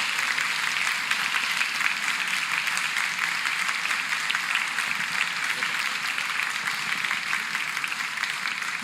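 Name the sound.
congregation applause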